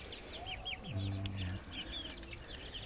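Free-range village chickens from a small backyard flock of about thirty cluck and call close by, with a run of short rising calls and a low throaty cluck in the middle.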